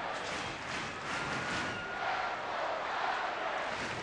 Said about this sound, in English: Big chant from the crowd.